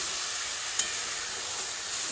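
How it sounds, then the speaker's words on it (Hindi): Masala sizzles and fries in a pan, a steady bright hiss that holds throughout with one brief clink midway, close and fairly quiet with no talk. "थोड़ा मसाला पका लेते हैं"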